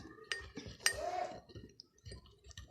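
A spoon clinks and scrapes against a bowl while rice flour and rose water are stirred into a face pack, giving a few sharp metallic taps followed by softer, irregular scraping close by.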